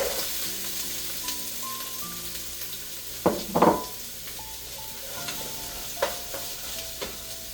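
Chopped onions with salt fry in a pan for chicken curry, a steady sizzle under soft background music, with a couple of louder clattering stirs in the middle and lighter scrapes later.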